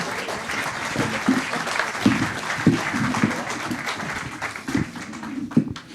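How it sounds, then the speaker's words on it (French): Audience applause at a circular economy conference in Normandy as panelists are called to the stage for a round table, steady clapping from a seated crowd, moderately loud and sustained for several seconds. "On peut les applaudir,"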